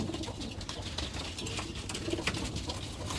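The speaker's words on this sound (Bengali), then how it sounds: "দেখুন এরা কিন্তু জালালি কবুতরের বাচ্চা" Young Jalali pigeon chicks in a pigeon farm, heard as soft, low cooing and murmuring close by, a few short calls over a steady background.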